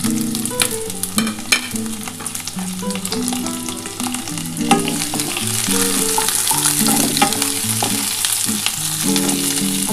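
Chopped onion and tomato sizzling together in hot oil in a pan for a duck egg curry, a loud continuous crackling fry with repeated scraping stirs of a spatula, no voices.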